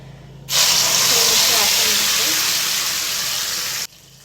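Ground masala paste for rajma curry drops into hot oil over a low flame and erupts into a loud, close, steady sizzling hiss that lasts several seconds, then cuts off sharply.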